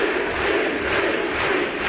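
A wrestling crowd of about a thousand people at York Hall chants and roars in a dense, steady wall of massed voices filling the hall.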